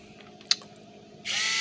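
A sharp click, then a steady, loud electric whirring hiss starts and runs without a break to the end, the pump of a battery-powered Ortho insect sprayer wand that is not spraying.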